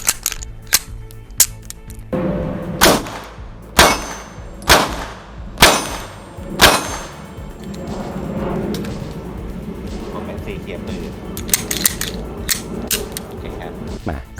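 Sig P229 pistol test-fired on a range, a series of sharp loud shots spaced about a second apart, followed by lighter metallic clicks and handling noises, with a voice speaking briefly.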